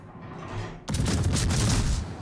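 A warship's main-battery salvo in World of Warships from the Tallinn, with a quieter rumble suddenly giving way to a loud, dense roar of gunfire that carries on for over a second.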